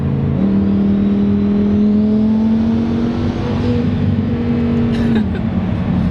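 Twin-turbo Lamborghini Huracan Performante of about 1100 hp pulling on light throttle, a steady close engine drone rising slowly in pitch and ending with a faint turbo whoosh as the throttle lifts.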